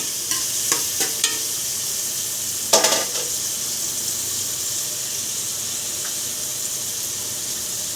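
Garlic, onion, long chili and tomato sauté in a pan for beef sinigang, with a steady frying hiss and a few sharp stirring scrapes early on, close and without talk.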